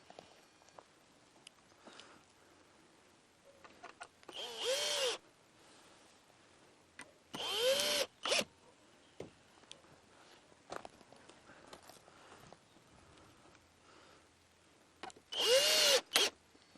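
A power drill drives screws into a wooden garden frame on an allotment, with three close whirring bursts of a few seconds each separated by quiet handling knocks and taps.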